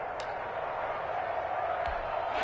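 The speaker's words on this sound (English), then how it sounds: "Crowd getting in it a bit already." Stadium crowd noise from the Madden 21 football video game, a steady, dense roar of a distant crowd throughout with a couple of faint sharp clicks.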